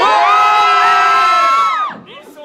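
Fans cheering at the Lyon Geek Show, a loud high-pitched crowd of shouting, whooping voices holding for over a second and a half before trailing off into scattered cries.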